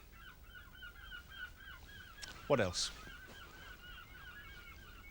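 Seagulls call in a repeated chattering series from high seaside cliffs above sand and sea, moderately distant, with a louder burst of calls in the middle and a brief voice speaking.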